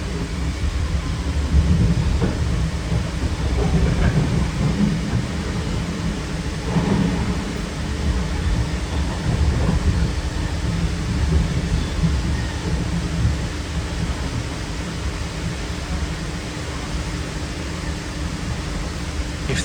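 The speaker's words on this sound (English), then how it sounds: "Man, that rain is heavy." Heavy rain pours down in a dense, continuous roar, with a low rumbling undertone throughout.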